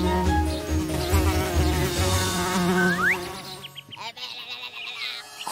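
Cartoon bee buzzing: a steady, droning insect hum with a rising whistle-like sweep partway through, then lighter fluttering buzzes under playful background music, with no speech.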